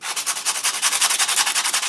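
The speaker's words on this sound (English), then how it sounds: "once it's dry and cool, I'm gonna take some sandpaper to it" Rapid rhythmic scratching of sandpaper rubbed back and forth over a dried chalk pastel background on a book page, close and steady with even strokes.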